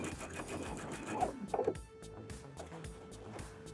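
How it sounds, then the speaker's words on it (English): A sewing machine running a long basting stitch down the skirt of a thrifted vintage dress, brief whirring bursts with short pauses, fairly quiet and close, over faint room sound. "we're just gonna run a basting stitch right down the skirt"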